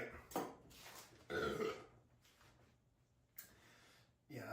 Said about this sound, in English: that was a strategic burp there